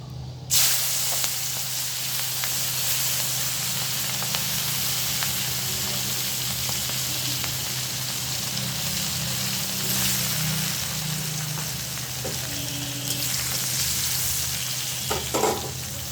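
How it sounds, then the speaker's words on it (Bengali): Green chilies and onion frying in hot oil, giving a loud, continuous, close sizzle and hiss that holds steady throughout, with faint clinks of stirring near the end. "ওই একই তেলের মধ্যে কাঁচা মরিচ আর পেঁয়াজ তেলে দিয়ে নেব"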